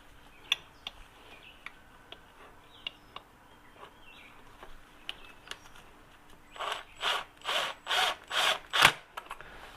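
Sparse sharp ticks early on, then a rapid run of six loud ratcheting bursts from a wrench tightening bolts during a clutch installation on a 2008 Harley-Davidson, close and without talk.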